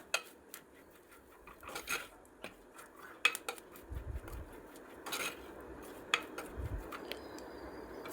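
A spoon clinks and scrapes sparsely against a pan while Kashmiri chili powder, regular chili powder and coriander powder are sautéed for a Kerala-style etta fish curry. The contacts are fairly quiet, with a few sharper taps.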